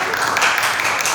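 Applause from a classroom audience for the quiz winner, a dense, steady patter of clapping lasting about a second with no gaps.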